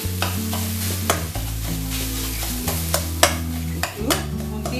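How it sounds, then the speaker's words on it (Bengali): Boiled beetroot mashed with a spatula in a pan, a run of close, uneven scraping and thudding strokes over a constant low hum. "একটু খুন্তি করে ম্যাশ করে নিচ্ছি।"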